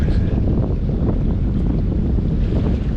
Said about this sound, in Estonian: Paat ootab, lähme peale.